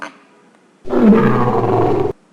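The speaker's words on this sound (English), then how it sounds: "see whether we will be able to hear the dinosaur sound from the background of this app" A single loud, deep dinosaur roar sound effect from an app erupts after a short silence and holds for over a second before cutting off abruptly.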